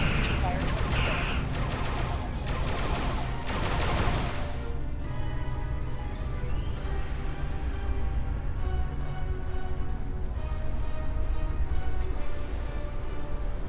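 Starship weapons fire in the Star Trek Online space battle, a dense continuous barrage of rapid shots and blasts that stays loud throughout, with game voices speaking over it.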